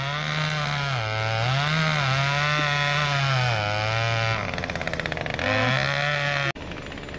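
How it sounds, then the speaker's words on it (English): A chainsaw cutting down a tree in snowy woods, its two-stroke engine loud and close, revving up and down in long surges with a brief sputter before idling. "And we're needing to use the chainsaw to cut this"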